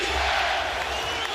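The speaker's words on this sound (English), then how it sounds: "Crowd on its feet, chanting defense." Packed basketball arena crowd during a 2009 Western Conference Finals playoff game, Lakers at Denver Nuggets, on its feet and chanting defense: a dense, loud, continuous roar of many voices with no break.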